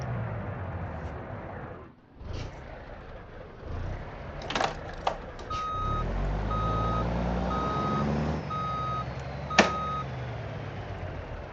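Reversing beeps from a vehicle backing up in BeamNG, a steady run of evenly spaced electronic beeps over a low engine rumble, with a few clunks and knocks scattered around them.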